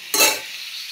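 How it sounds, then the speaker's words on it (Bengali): Cauliflower florets fry in hot oil in a pan, a sudden close burst of sizzle that quickly settles into a softer steady hiss. "আগে তোমার ভালো করে ফুলকপি ভেজে নিই"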